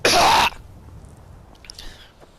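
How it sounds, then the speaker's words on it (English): A single loud, close cough bursts out at the start, followed by quiet room tone and faint background noise, with no speech. "That was a cough."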